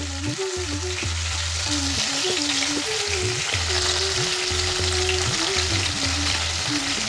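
Pointed gourd (potol) fries in hot oil with a little salt: a continuous close sizzle and crackle, steady throughout, with low tonal sounds droning underneath.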